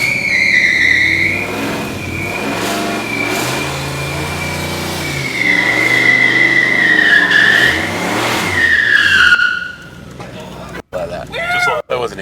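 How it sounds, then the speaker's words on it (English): Tires squeal in long high-pitched skids over a revving engine, fading out as the car settles, then a few bumps and clicks. "Are we skidding it?"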